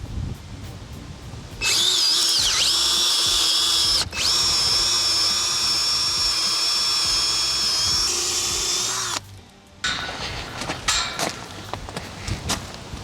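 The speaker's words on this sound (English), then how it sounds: "I need to get a bigger drill bit." A power drill runs loud and steady for about eight seconds while building a double gate, its high motor whine rising briefly at the start, then stopping before lighter tool clatter and handling noises.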